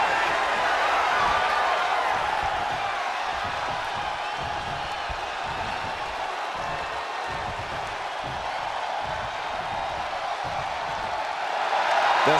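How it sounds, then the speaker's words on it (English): A large arena crowd at a wrestling match roars continuously, loud and dense, a steady wall of cheering with no clear breaks. "The sound of this crowd is deafening"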